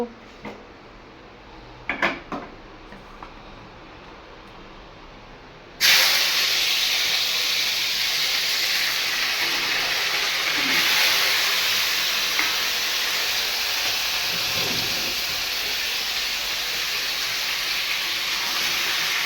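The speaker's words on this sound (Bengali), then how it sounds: "এখানে সবজি আর চিকেনটাকে ভেজে নিচ্ছি" Vegetables and chicken hit a hot pan with a sudden loud hiss that settles into a steady, strong sizzle for the rest of the clip, after a quieter stretch with a few clatters.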